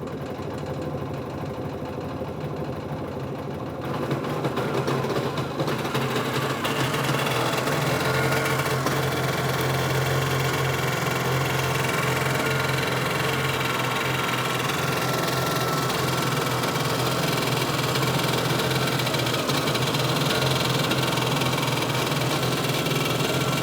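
A 1973 Cushman Trackster engine cranks and catches about five seconds in, then runs on with a steady, loud, close mechanical drone and no talking over it.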